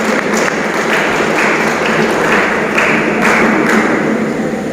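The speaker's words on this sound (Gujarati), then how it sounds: "એક જોરદાર તાળી આ બધા માટે" A crowd claps loudly and continuously at a welcome ceremony for a disabled (Divyang) cricket tournament in Unjha, with the dense applause rising and falling in waves and no talking.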